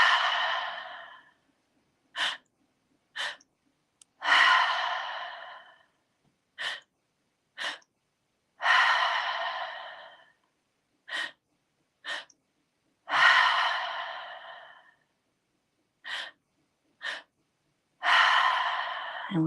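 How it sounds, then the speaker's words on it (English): A person breathes deeply during a guided breathing exercise: long slow inhales into the belly and chest, then audible exhales, repeated alone and close with pauses between. "We're going to take a deep breath into our belly, upper chest, exhale out."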